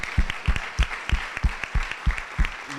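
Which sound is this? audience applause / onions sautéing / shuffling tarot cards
audience applause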